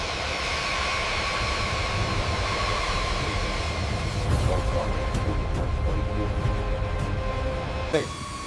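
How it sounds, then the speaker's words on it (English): B-52 Stratofortress bomber with eight clustered jet engines at maximum takeoff thrust in torrential rain, a loud, sustained roar with a whining tone and a few brief swells and thuds. "In these torrential conditions, the Stratofortress needs maximum thrust."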